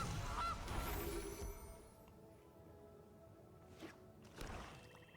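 A goose honks in a card game's sound effects, a quiet, brief honk early on and a couple of soft squawks later over a low, steady background.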